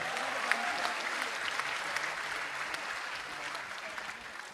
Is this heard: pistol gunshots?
no